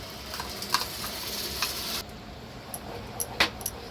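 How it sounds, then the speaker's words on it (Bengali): Fried spice paste hitting melted butter in a pan while cooking Nawabi paneer, a steady close sizzle with occasional stirring clinks, the frying noise dropping in intensity midway and continuing more quietly. "বাটারটা গলে গেছে, এবার এর মধ্যে আমি ভাজা মশলাটা দিয়ে দেব।"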